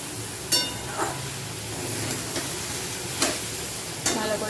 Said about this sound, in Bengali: আমি একটু সর্ষে তেলের উপর ভালো করেই ভেজে নিই